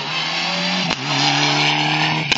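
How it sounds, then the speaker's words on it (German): A rear-wheel-drive rally car at a rally in Sulzdorf drones loudly and steadily with its engine note dropping sharply as it brakes, then holding on before a brief final blip. "Du merkst ja, der bremst."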